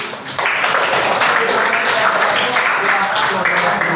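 A classroom applauding a student group after its presentation, a loud, continuous patter of clapping with voices mixed in, close and busy from start to end.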